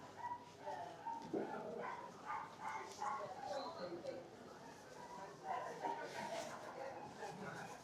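An unhappy dog yips and whines repeatedly on a town street in Stow-on-the-Wold, mid-distance and fairly quiet, mixed with passing voices and general street bustle.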